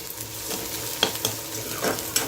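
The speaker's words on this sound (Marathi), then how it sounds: "तेल तापल्यावरती मी कांदा कापून टाकलेला आहे मग त्याला चांगला लाल भाजणार आहे" Chopped onion fries in hot oil on a fast flame for an eggplant vegetable dish, a quiet steady sizzle broken by several sharp spatula scrapes and taps as it is stirred nearby.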